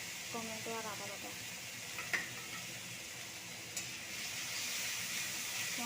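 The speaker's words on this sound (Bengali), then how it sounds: "মশলাটাকে ভালো করে কষিয়ে নেব" A ground spice paste with tomato and ginger paste fries in oil in a pan, with a soft, low sizzle, light stirring and a couple of sharp utensil taps.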